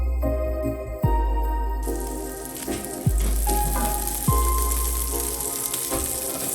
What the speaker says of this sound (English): We're gonna saute our sausage in a skillet with some cooking oil.